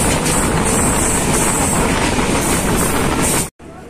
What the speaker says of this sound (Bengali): এখন আবার ট্রেন ছুটে চলেছে তালমার উদ্দেশ্যে।